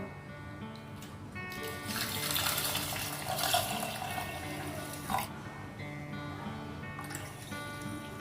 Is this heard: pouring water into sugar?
yes